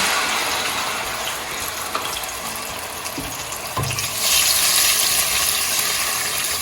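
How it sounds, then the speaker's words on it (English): Blended pepper is poured into a hot pot, hissing and sizzling continuously, with the sizzle growing louder near the end. "So part of the pepper that I blended earlier, I'm gonna pour in here."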